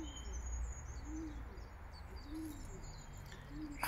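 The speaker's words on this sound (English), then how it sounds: "there's a wood pigeon going for it up there" A wood pigeon coos outdoors near a church, its soft low phrases repeating at a steady rhythm, faint and distant over a hushed background.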